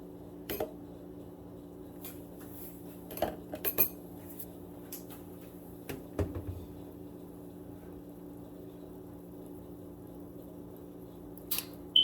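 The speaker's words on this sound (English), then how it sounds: "we're going to stir that up" A spoon stirs whole milk into donut frosting in a bowl, giving sparse, light clinks and scrapes against the bowl over a quiet background.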